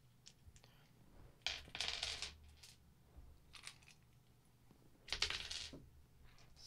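Board game tokens dumped from a container and clattering down onto a table in two loud bursts, with lighter scattered clicks and small rattles between, close by and otherwise quiet.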